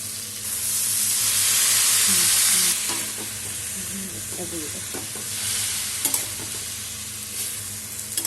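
Jaggery melting with mango pickle in a pan for a sweet-sour-spicy achar, a steady loud frying hiss and sizzle with scraping stirring strokes throughout and a few sharper clinks near the end, no talking.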